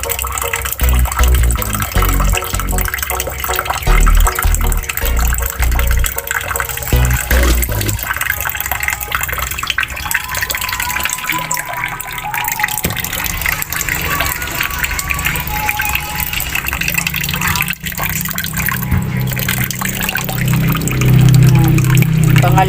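Tap water gushes steadily into a container while rice is being washed and measured for a rice cooker, a continuous loud splashing stream that changes pitch as the vessel fills, with a voice talking over it.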